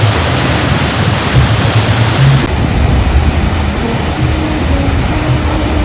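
A fast-flowing mountain river near Gangotri in the Harsil Valley rushes in a loud, steady roar of churning water, close and continuous with no pauses.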